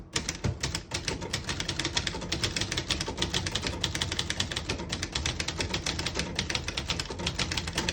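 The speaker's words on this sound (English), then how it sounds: "I'll type a sentence on the next line." A 1964 Brother Webster portable typewriter types out a line, with a rapid, steady run of crisp key strikes clattering close by and no voices.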